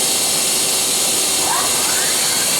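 A Mazak QTN 100ii CNC lathe's main spindle spins at speed, a loud steady high-pitched whir and hiss that holds unchanged throughout.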